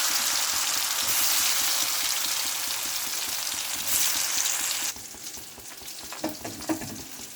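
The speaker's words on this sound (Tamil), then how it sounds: "உருளைக்கிழங்க ஃப்ரை பண்ணி வச்சுக்கலாங்க." Potatoes fry in hot oil with a loud, continuous sizzle for about five seconds, then the hiss drops to a quieter crackle punctuated by a few light utensil clinks.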